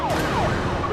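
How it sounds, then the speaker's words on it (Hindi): A police car siren wails through traffic noise, its pitch sweeping up and down in a short burst, fairly loud and close. "पुलिस की गाड़ी की आवाज आ रही है"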